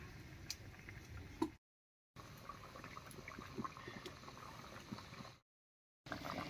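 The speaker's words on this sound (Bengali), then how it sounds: "বলক উঠে গেছে" Koi fish curry in oil-and-chili gravy simmering in a pan, a faint, continuous bubbling and gurgling of liquid, broken twice by short stretches of complete silence.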